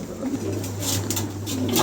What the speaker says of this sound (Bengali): আজকে কিছু কবুতর দেখাবো কিং কবুতর